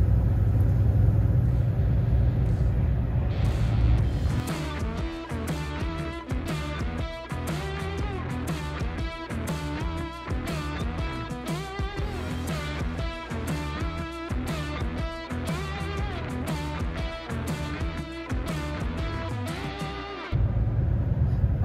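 A truck driving along a road on a detour route in winter, its engine giving a steady, loud mid-range rumble throughout, with a rhythmic pulsing drone that stays close and unbroken.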